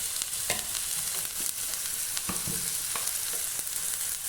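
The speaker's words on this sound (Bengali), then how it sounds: "তো এটাকে আমি খুব ভালো করে ভেজে নিব।" A pan of food with salt, chopped chilli and a little flour fries with a constant close sizzle, while a utensil stirs it and scrapes the pan at irregular intervals. No speech.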